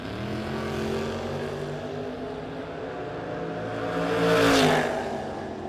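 Drag race cars, a truck against a Camaro, launching at a no-box 660 shootout: a steady engine drone with layered tones swells into a louder accelerating surge near the end, heard from a distance with no commentary over it.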